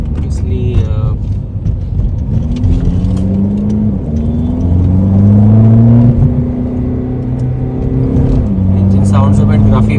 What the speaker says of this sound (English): engine sounds a bit gruffy